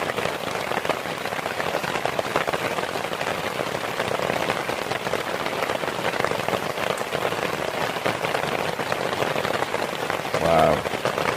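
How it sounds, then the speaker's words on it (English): Heavy rain drumming on a mesh A-frame tent and British army basha during an overnight camp, a dense, constant close patter at steady loudness throughout. "Absolutely chucking it down."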